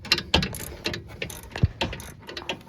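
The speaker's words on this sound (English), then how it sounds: "Just keep going, securing this bolt. Make sure it's tight." A hand ratchet clicks in short, uneven bursts while tightening a sway bar link bolt on a 2006-2011 Toyota Camry, its sharp metallic pawl clicks close and crisp with brief pauses between strokes.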